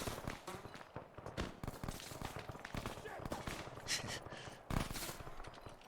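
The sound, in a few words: gunfire hitting a building in the video game Arma 3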